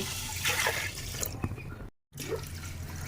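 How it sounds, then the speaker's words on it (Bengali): Water poured into Gobindobhog rice for khichuri, a steady close splashing and gurgling pour that breaks off briefly and then resumes. "এবার আমি দিয়ে দেবো পরিমাণ মতন জল"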